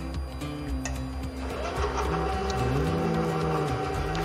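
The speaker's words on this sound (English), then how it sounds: "We always wanna just start on low with the mixer because otherwise you'll be wearing your food." An electric mixer whips whole eggs and sugar in a bowl on low speed, a steady motor whine with shifting tones running close and constant throughout.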